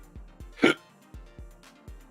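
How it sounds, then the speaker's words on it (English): One sharp hiccup from a person, close and brief, standing out against a quiet background of evenly spaced soft thumps. "Got the Rice Krispie treat hiccups."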